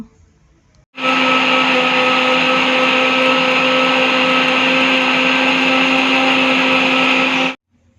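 A mixer grinder whirs loudly and steadily for about six seconds as it grinds henna leaves with tamarind and curd, starting and stopping abruptly, with a strong motor hum.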